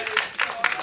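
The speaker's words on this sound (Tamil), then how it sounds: "தயவு செஞ்சு நீங்களே ஒரு தடவை கைத்தட்டிடுங்க" Brief burst of audience clapping at a Tamil film function, a few quick rounds of applause swelling from a crowd in a hall.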